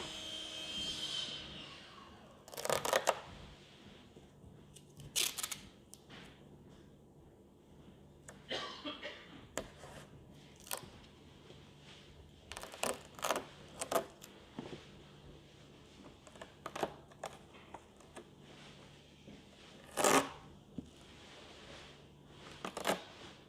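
Masking tape is pulled off the roll and pressed down to outline a bonding area during a Comco C42 skin repair, heard as scattered short ripping and crinkling bursts, quiet and close in a hushed room.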